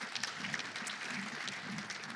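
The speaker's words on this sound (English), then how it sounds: "let's give a big round of applause" Applause from a conference audience at a Nordic-Baltic summit, steady and moderately distant, lasting the full two seconds with no speech over it.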